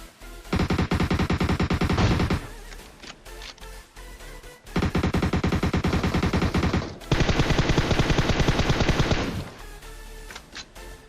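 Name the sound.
gunfire in a video game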